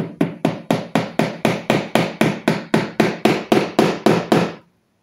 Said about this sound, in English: get my hammer.